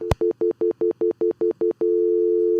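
A telephone receiver gives a short click, then a string of evenly spaced tone pulses that settle into a steady, continuous dial tone, loud and close with nothing else around it.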